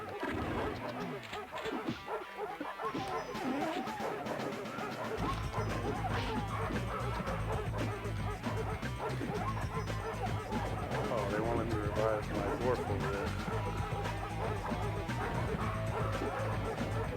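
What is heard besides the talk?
dogs barking in video game Three Dirty Dwarves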